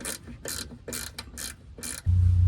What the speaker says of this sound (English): Take these 3 bolts out and remove the inner fender.